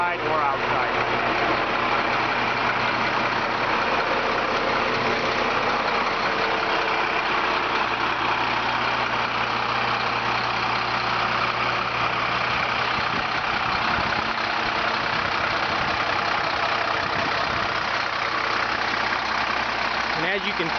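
A truck engine idles steadily throughout while a hoist lifts, with a low, continuous rumble and mechanical hum, with no change in pitch.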